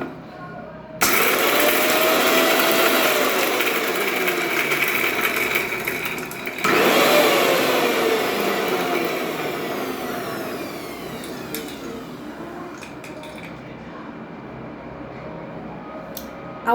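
Mixer grinder crushing peanuts and green chillies: a loud, whirring motor starts abruptly, cuts out briefly, then whirs again before slowly winding down and stopping.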